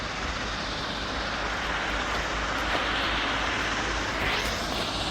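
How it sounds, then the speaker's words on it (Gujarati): A tractor spraying water at a mine site drives past with a continuous broad engine roar mixed with spray hiss, loud and steady throughout with no talking. "ઓલું ટ્રેક્ટર આવે પાણી છાંટતું મિત્રો."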